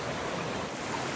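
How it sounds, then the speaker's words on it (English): Steady broadband rush of creek water flowing along Deep Creek in the Great Smoky Mountains, a continuous close wash with no voices. "The creek is beautiful through there. The beauty of Deep Creek."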